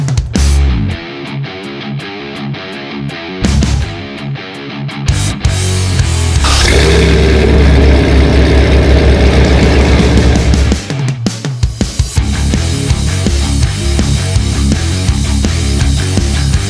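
A supercharged 1987 Buick Grand National making 605 horsepower runs loud and close, its engine roaring steadily for several seconds between shorter bursts of revving and rumble.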